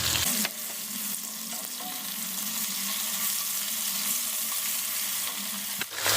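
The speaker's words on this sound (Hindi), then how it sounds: "अदरक और लहसुन ये इसमें डाल देंगे, इसकी थोड़ी सी भुनाई कर लेते हैं।" Ginger, garlic and chopped tomato fry in a pan with a continuous close sizzle and occasional stirring scrapes, a sharp knock of the utensil near the start and end.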